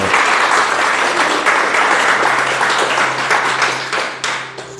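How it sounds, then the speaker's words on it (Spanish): A church congregation claps in loud, dense applause that holds steady for several seconds, then thins and fades out near the end. "Vamos a darle un fuerte aplauso a la palabra de Dios."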